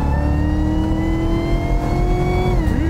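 A 650-horsepower car engine at full throttle, a loud, close, sustained roar whose pitch climbs steadily, then dips and rises again near the end as it keeps pulling hard.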